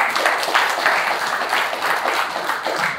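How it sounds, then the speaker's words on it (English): An audience at a business marketing talk gives a round of applause, steady dense clapping at even loudness for a few seconds with no voice over it. "you deserve a round of applause"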